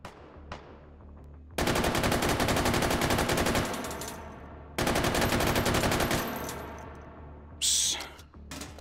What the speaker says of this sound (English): all you need to do is provide a little bit of suppressing fire and their accuracy goes down